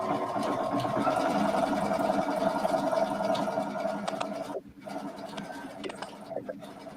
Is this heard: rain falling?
no